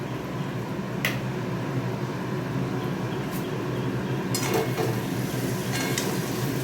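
Pointed gourd sautéing in oil with spices in a pan, a steady low sizzle throughout with a few light clinks and scrapes of a spoon against the pan.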